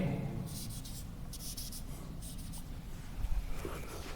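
Short bursts of chalk or marker scratching on a board come in quick repeated groups while maths is written out, over a faint room hum.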